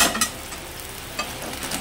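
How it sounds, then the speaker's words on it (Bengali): Ghee melting in a kadai for frying vermicelli gives a steady near sizzle, with a few sharp scraping strokes of a stirring spoon at the start, around the middle and near the end, with no talk. "ঘিটা আমার গলে গেছে দেখছো, আমি কড়ার তেলে সবদিকে ছড়িয়ে দিলাম ঘিটা।"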